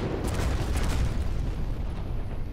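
Heavy rocket explosions in a video game, a continuous loud rumbling blast with dense low-end roar sustained for a couple of seconds, no talk.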